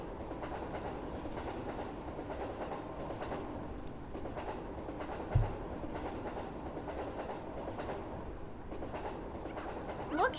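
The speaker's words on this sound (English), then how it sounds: "Train is very loud." A loud train rumbles past steadily in the video game Unreal Life, a continuous rolling clatter of wheels on rails with a brief sharp squeal near the end.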